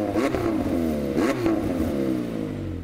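A 2018 McLaren 720S twin-turbo V8 revs in two quick blips, each sharp rise in pitch falling back, then settles into a steady rumble, close and loud with no talk.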